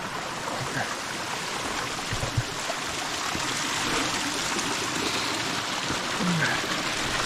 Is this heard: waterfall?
yes